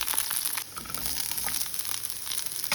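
Okra, garlic and dried chillies fry in a pan with a steady, bright, close sizzle and light crackling throughout.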